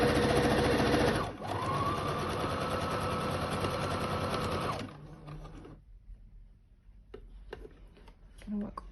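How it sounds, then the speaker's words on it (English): A sewing machine stitches the seam joining two raw fabric edges of a round floor cushion front, a loud, steady mechanical whir that runs for about five seconds and then stops, leaving quiet handling noises. "I'm holding the two raw edges together and holding those very tight as I sew."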